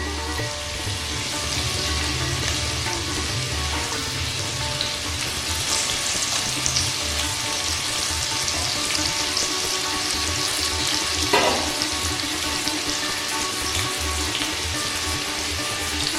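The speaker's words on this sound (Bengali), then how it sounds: "একটা বড় সাইজের পেঁয়াজ কুচোনো, মিহি করে কুচোনো প্রথমে ভেজে নিই।" Finely chopped large onion frying in a pan over low to medium flame while cooking Bengali echor chingri, a steady, close sizzle running throughout with a brief louder crackle near the end, no voices.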